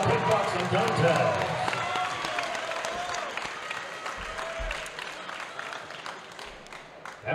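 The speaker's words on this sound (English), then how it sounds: "how about a round of applause for these two great fighters" A crowd applauds two kickboxing fighters at a 125 lb bout in an event hall, the clapping steady but fairly soft, with an announcer's amplified voice speaking over it.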